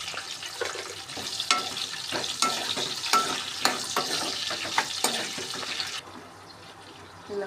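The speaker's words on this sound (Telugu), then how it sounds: "ముందుగా ప్రిపేర్ చేసుకొని ఉల్లిగడ్డలు వేసేసుకుందాం" Onions hit hot oil with cumin, mustard seeds and curry leaves, crackling and sizzling steadily with sharp pops and spoon stirring scrapes, the frying hiss thinning near the end.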